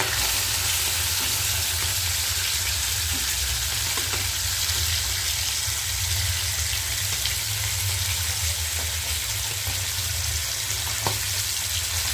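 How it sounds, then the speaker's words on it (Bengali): Three fish fry together in hot oil in a small pan, giving a steady, close crackling sizzle with occasional louder pops over the whole stretch, without any speech. "তিনটে করেই মাছ ভেজে নিচ্ছি।"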